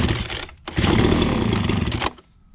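A Ryobi BP42 leaf blower's small two-stroke engine fires up on choke, cutting out briefly after a short burst and then roaring loudly and steadily for over a second before dropping off.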